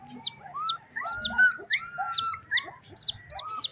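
Young chicks at a small village mini zoo chirp in bright, repeated high peeps that overlap one another, close and fairly loud over a low background murmur.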